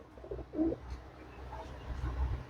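Andhra pigeons cooing nearby, a couple of low, soft murmuring coos against a quiet, muffled background, with no talking.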